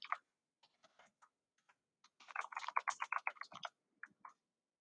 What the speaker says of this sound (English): I can type.